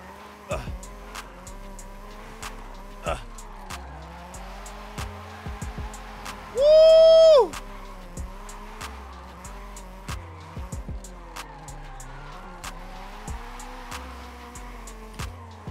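Honda Prelude SI converted to rear-wheel drive drives under load, its engine droning steadily with a loud tire squeal and skid surging briefly midway, amid scattered knocks and clicks.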